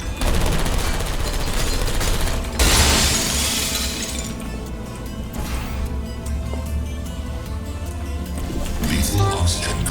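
Automated turrets fire in rapid bursts in Portal Stories: Mel, a loud, dense rattle of gunfire with sharp shattering cracks that runs nearly continuously across the clip.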